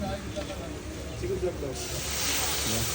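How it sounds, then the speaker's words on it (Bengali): Water poured into a hot pan while cooking ghugni sets off a steady sizzling hiss that swells in the second half, with a voice talking over it. "এবার চলে যাবে একটু জল"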